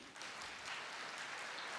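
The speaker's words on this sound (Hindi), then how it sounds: "ताली तो बजाओ अपने लिए" A seated audience at a Hindi spiritual class bursts into a short round of clapping, a dense, steady patter of many hands that fills the room throughout.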